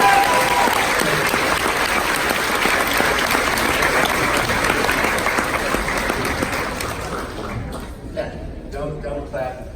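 A convention panel audience breaks into loud, sustained applause that fills most of the moment, then tapers off near the end as voices begin talking.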